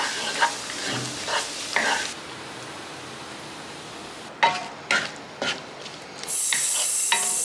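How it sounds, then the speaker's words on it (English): Food sizzling in a hot pan under a steady hiss, with a few scraping stirs and light clanks of a utensil against the pan. "It's making a beautiful sizzling sound."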